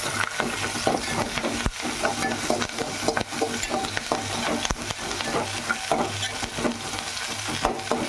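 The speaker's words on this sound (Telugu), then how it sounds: "అవి బాగా క్రిస్పీగా వచ్చిందాక వేసుకుందాం" Curry leaves frying in hot oil in a pan until crisp, a loud continuous crackling sizzle with frequent spatula scrapes and stirring strokes throughout.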